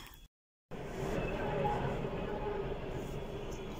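Electric commuter train passing a railway level crossing, a steady broadband rumble and rattle of wagons heard at moderate distance after a brief silent gap at the start.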